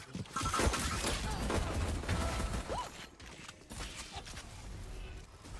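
Gunfire during a pistol round of a Valorant match in a college cup final, a burst of rapid shots at the start followed by scattered single pops, all of it under a busy game mix.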